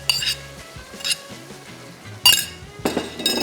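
A spoon stirs mash lentils into spice masala in a cooking pot, making close metallic clinks and scrapes against the pot in an uneven rhythm, with a soft sizzle beneath.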